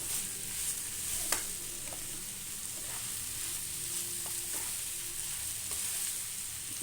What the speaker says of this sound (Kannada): ಒಂದು ಎರಡು ನಿಮಿಷ ನಾವು ಇದನ್ನು ಬೇಯಿಸ್ಕೊಡೋಣ ಮಾವಿನಕಾಯಿನ ಎಣ್ಣೆ ಒಳಗೆ